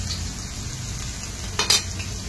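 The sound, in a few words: fish frying on a griddle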